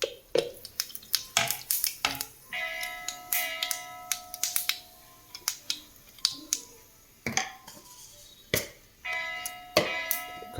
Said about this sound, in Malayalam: കടുക് പൊട്ടുമ്പോൾ